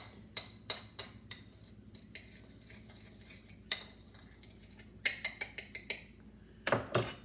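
A utensil stirs and scrapes a pork chop seasoning mixture in a bowl, giving repeated sharp clinks and taps in an uneven rhythm, close and fairly quiet, with a brisk flurry near the end and no talking.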